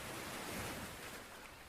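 Wind-driven waves on Lake Ontario in cold winter weather, a continuous broad roar of surf and gusting wind across the microphone, steady and fairly loud with no other sounds.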